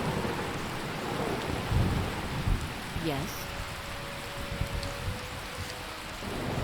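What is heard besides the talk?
heavy rain and thunder, video game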